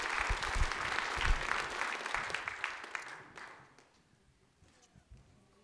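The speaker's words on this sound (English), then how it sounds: "give these guys a round of applause" Audience applause at a cadet auction event, a crowd clapping steadily for about three seconds, then thinning out to scattered claps and quiet room noise.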